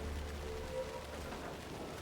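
Steady rainfall in the video game Alan Wake 2, a dense continuous patter over a low rumble, even in level throughout with no voices.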